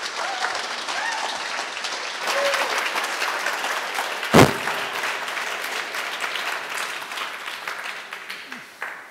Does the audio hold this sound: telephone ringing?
no